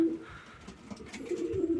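A young grey female homing pigeon gives soft, low cooing phrases, close and moderately loud, repeating across the short stretch against light background noise.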